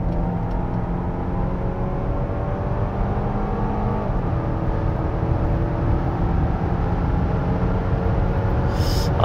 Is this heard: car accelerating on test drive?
yes